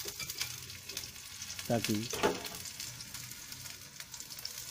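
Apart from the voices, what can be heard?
eggplant and potato chips frying in ghee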